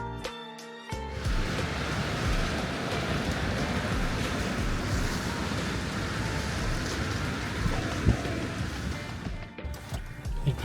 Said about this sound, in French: la pluie est incessante, hein, c'est incroyable.